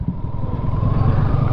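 Royal Enfield motorcycle engine running nearby, a steady loud low thumping rumble that holds constant throughout without clear revving.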